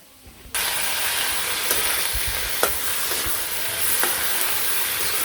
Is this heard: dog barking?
no